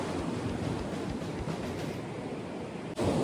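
Sea waves on the shore at Emi Beach in Japan, a continuous broad wash of surf mixed with wind, steady and moderately loud.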